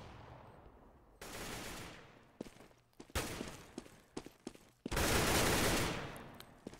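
Bursts of enemy gunfire in the tactical shooter CS:GO during a competitive match, several loud sustained volleys with sharp single shots between them, close and fairly loud, with no talking.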